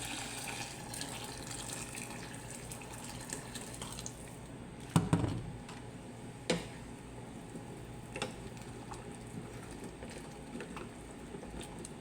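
Water pours and splashes into a pot of salted rice, a soft continuous trickle with a couple of clunks of metal partway through.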